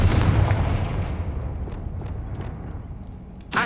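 A Confringo blasting spell from Hogwarts Legacy goes off as a loud, close boom that rumbles away and fades, with a sharp crack at the very end.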